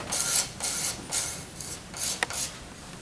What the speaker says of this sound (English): This is not the easiest thing on a curved sanding surface, but there's my first tone bar.